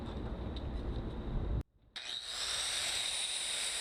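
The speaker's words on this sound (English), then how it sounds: "we're going to grind on the metal" Grinder working metal clean before MIG welding; a loud, steady high-pitched whine, cut off briefly, then resuming even brighter and harsher as the disc bites the metal, close and unbroken with no voices.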